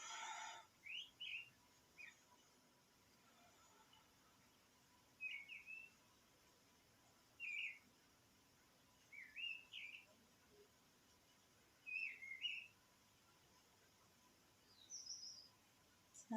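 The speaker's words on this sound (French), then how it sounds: "Avec le chant des oiseaux." Wild birds sing outdoors, with faint, distant chirps and short warbling phrases in scattered bursts every second or two over a quiet, hissy background.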